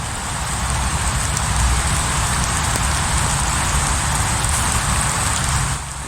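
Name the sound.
falling rain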